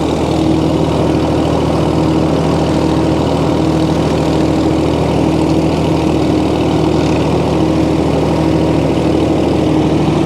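A 1937 Oliver Hart-Parr 70 tractor runs with its PTO turning. The engine gives a loud, steady, close chugging idle that holds unchanged throughout, with no talk.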